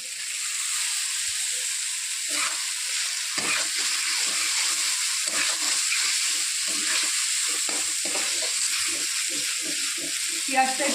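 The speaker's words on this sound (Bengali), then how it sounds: "এবার দিয়ে দেবো পেঁয়াজ কুচি কারণ পেঁয়াজটা আমি বেশি ভাজবো না" Chopped onions sizzle and fry in a pan while being stirred, a steady bright crackling hiss with scraping movements, as a person talks over the cooking.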